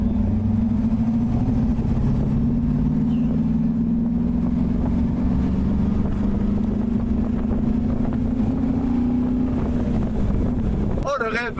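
A Chevrolet Corvette C1 with a four-speed gearbox drones loud and steady at close range, its engine pitch creeping slowly upward with rushing wind noise. A brief clatter comes near the end.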